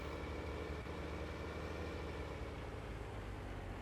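A tractor engine in Farming Simulator 19 idles steadily with a low, constant rumble at a moderate, even level and no voices.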